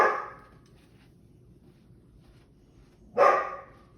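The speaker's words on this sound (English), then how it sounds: "You don't even know what you're barking at." Two barks from a nearby dog, one at the start and another after a quiet pause of about three seconds.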